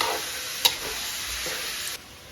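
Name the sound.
stirring ground meat frying in a pan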